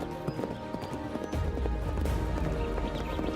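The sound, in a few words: horses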